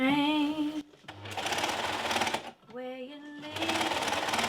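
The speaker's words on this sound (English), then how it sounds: "I did decide to do 2 rounds of top stitching in the end" A sewing machine top stitches a dress in three quick bursts of rapid, whining stitching separated by short pauses, close and fairly quiet.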